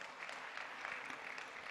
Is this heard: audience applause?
yes